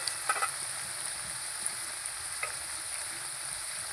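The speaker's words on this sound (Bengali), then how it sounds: "এবার ভাজবো আমি লাল লাল করে আলু" Potatoes frying in a pan with a steady, fairly quiet sizzle and a few soft stirring scrapes and clicks, heard alone without any talking.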